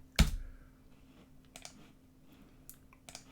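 Computer keyboard typing: one sharp loud click, then a few lighter scattered keystrokes, close and quiet with no talking.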